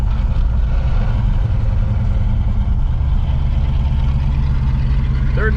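A 1970 Pontiac Grand Prix with a four-speed manual pulls up a hill, its engine a steady low droning rumble heard from inside the car, constant and fairly loud throughout.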